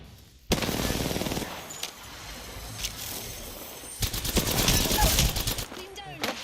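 Automatic weapon fire in the battle-royale game Apex Legends, a rapid fusillade of close, rattling shots in two main bursts with brief gaps, a voice talking over parts of it.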